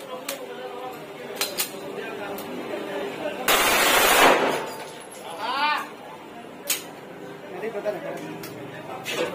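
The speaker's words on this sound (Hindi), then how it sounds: "अभी इस पर टेस्टिंग फायर करते ही आप चेक कर लो।" A Zigana F double-barrel 9mm and 30 bore pistol is test fired, with sharp, scattered cracks and one loud sustained burst near the middle, while people talk around the shots.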